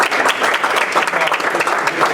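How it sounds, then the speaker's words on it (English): A school board meeting audience claps in a brief, dense round of applause, with sharp hand claps packed closely together in a small indoor room and no talking over it. "But just a round of applause."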